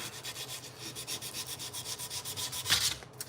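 A steel blade is hand-sanded with 320 grit paper in a steady back-and-forth rhythm of soft, close rasping strokes, ending with a brief louder scrape.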